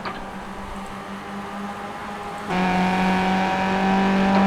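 Race car engine in the iRacing sim, a Skip Barber car at Zolder, holding a steady drone before the note jumps and grows louder, the throttle changing mid-run with no talk over it.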